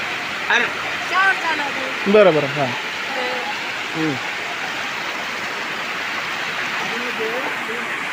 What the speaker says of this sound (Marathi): इथं हे जे पाणी वाहत चालू आहे